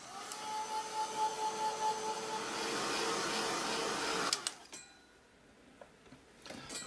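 A drying tool blows on painted altered book pages with a steady whooshing roar that pulses slightly at first, then cuts off abruptly and leaves quiet with small handling taps.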